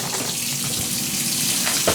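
Tap water runs steadily into an Off Road Thirsty Rock hydration tank bag, a close, continuous gushing splash without pauses or voices.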